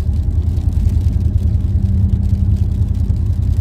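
Inside a moving car, the engine is held high in the revs while driving, giving a steady, loud, low droning rumble with a faint rising whine partway through and no talking.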